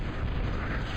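The Big Bertha long-range cannon in the Total Annihilation strategy game gives a brief, dense, rumbling boom that fills the whole moment with no talking.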